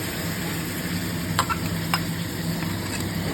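A spice mix hits hot oil that was left over from frying pointed gourd, giving a steady close sizzle broken by a few sharp clinks of a spoon stirring.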